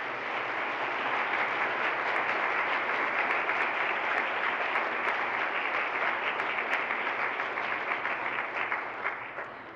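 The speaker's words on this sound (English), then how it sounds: "we want to give a round of applause to all of our nominees tonight." Audience applause for award nominees at an evening recognition event, a steady dense wash of clapping from a crowd that holds for about ten seconds before easing slightly at the end.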